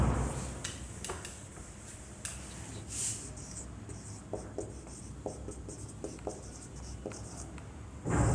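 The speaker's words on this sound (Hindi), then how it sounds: "ऊपर लिखता हूँ यहाँ पे" Marker or chalk strokes on a board during a cardiac cycle lesson, short scratchy taps and scrapes in irregular bursts, fairly close in a quiet room with no voices.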